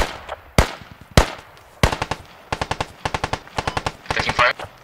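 Gunfire in a tactical shooter game: a few heavy single shots, then rapid bursts of automatic fire in quick rhythmic volleys, loud and close with faint voices in the background.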